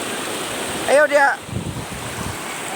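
A strong river current swollen by flooding rushes steadily and loudly, with a brief spoken call over the constant churning water.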